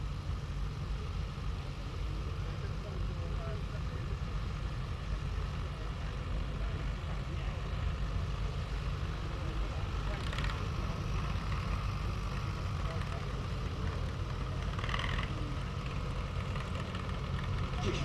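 Vintage Field Marshall tractor engine idling at an outdoor country show, a steady low rumbling throb holding even throughout, with faint background talk and noise from the show around it.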